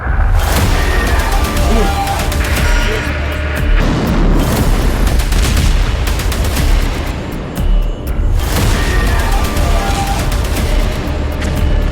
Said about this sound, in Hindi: आसमान में एटमी मिसाइल से धमाका